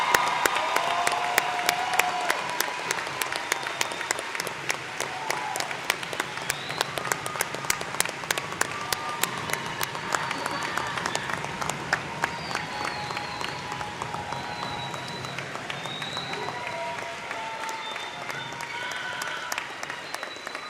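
Steady crowd applause for a graduating class of 2025 at a graduation ceremony, sustained and moderately loud throughout, with faint cheering and voices mixed in.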